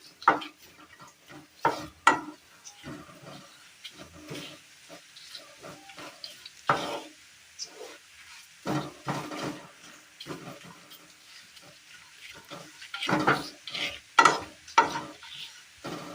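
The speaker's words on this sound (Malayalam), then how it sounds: "മല്ലിപ്പൊടി, മീറ്റ് മസാല, മഞ്ഞൾപ്പൊടി ഇട്ട് കൊടുത്ത് നന്നായി ഒന്ന് ഇളക്കി കൊടുക്കാം." Coriander powder, meat masala and turmeric are stirred in a frying pan for a Kerala curry. Intermittent scraping and stirring strokes sound over a soft, ongoing sizzle, with a few louder clusters of spoon movement.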